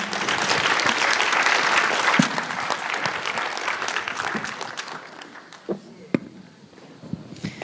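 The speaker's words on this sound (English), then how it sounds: "Please give a round of applause to our panelists today." A conference audience applauds its panelists in a full burst that gradually thins to scattered claps and a few final isolated claps, with murmured voices in the room.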